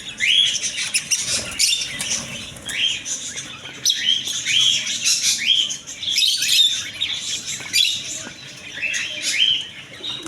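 Colourful crested birds in a pet bird shop, with many bright chirps and tweets overlapping in quick, repeated bursts throughout, loud and close.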